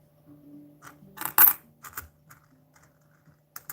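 Australian $1 coins are handled and dropped, giving a cluster of close, bright metallic clinks and rattles, followed by a few sparse, quieter taps.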